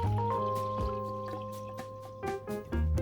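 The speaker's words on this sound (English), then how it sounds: "Then get back out that watermelon and pour the punch in" Watermelon punch is poured into a hollowed-out watermelon, a brief, close liquid trickle and splash with a few drips, fairly quiet, no voices.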